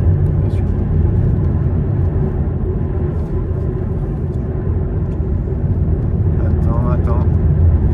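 An Alpine A110 drives in Lapland while passing a Porsche, its engine a steady, loud, close rumble with constant road and cabin noise throughout.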